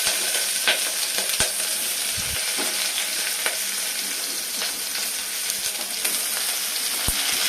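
Onions and tomatoes frying in hot oil for a chicken curry give off a loud, dense, continuous sizzle with a few sharp pops and scrapes of stirring, close up and with no talking.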